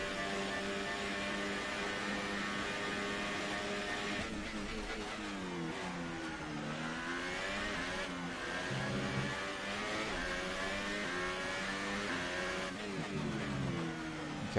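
A Formula 1 car engine in F1 2018 screams continuously at high revs, pitch sweeping up and down through gear changes, loud and steady with no talk over it.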